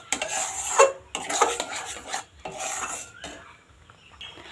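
Semolina barfi with mango pulp being stirred in a pan, a spoon scraping and clinking against the metal in several uneven bursts with short pauses, close and moderately loud, no voices.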